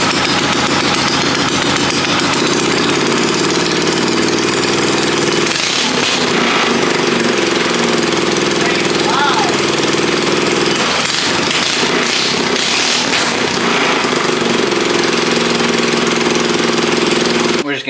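A small vintage go-kart engine runs loud and continuous, rattling and buzzing close up, with its pitch shifting slightly as it revs.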